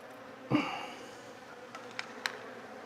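Bees buzz close by on a homestead, with a sudden burst of buzzing followed by a steady hum and a few faint ticks.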